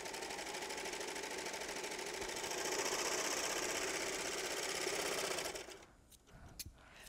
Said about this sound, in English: So let's stitch a 4-thread, and it should work first time every time because it's a Baby Lock serger.